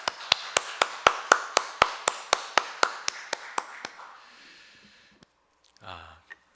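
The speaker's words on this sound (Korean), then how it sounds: "우리 박수 한번 해주시기 바랍니다." Rhythmic clapping in a church on Easter Sunday, about fifteen evenly spaced sharp claps close to the listener that thin out and stop after four seconds, followed by a breath or sniff and faint noise.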